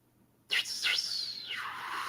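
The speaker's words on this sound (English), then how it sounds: "The birds of confusion, look." Chirping bird-call attack effect from a JRPG battle, a sudden burst of high twittering calls that sweeps downward and keeps going as a loud, steady sound on its own.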